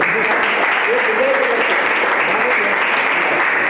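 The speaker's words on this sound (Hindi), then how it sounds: "बजाओ ताली" Sustained crowd clapping at a Jain Ramayana religious discourse gathering in Pataliputra, steady and dense for the whole stretch, with faint voices mixed in.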